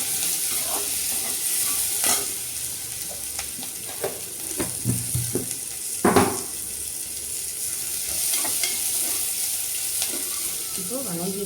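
Onions sautéing in a pan for a ridge gourd and lentil kootu, a steady sizzle with scraping stirs of a spatula at intervals, close and moderately loud.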